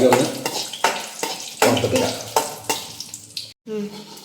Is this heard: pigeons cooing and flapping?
no